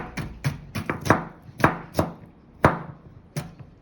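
A knife chops vegetables on a cutting board for prawn noodles, about a dozen sharp, close knocks in an uneven rhythm, some in quick pairs, with no talking.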